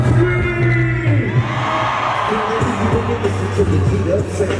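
A packed hip-hop concert crowd screams and cheers loudly and continuously, a dense roar of voices over heavy, thumping low bass.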